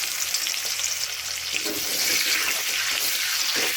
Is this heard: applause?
no